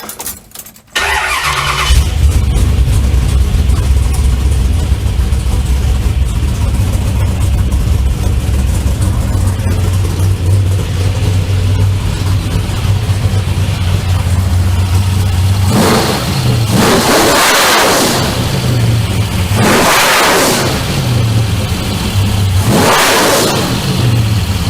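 A car engine running on a rebuilt Holley carburetor, upgraded to an 830 CFM main body with annular boosters, starts, idles steadily and then gets three strong revs near the end, loud and close.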